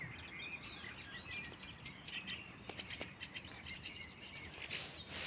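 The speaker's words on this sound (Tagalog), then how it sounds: "Ganda ng sounds ng mga ibon." Small birds chirp and tweet at a bus stop in Slovakia, a busy overlapping chorus of quick, high calls heard at a moderate distance over a soft, steady outdoor hush.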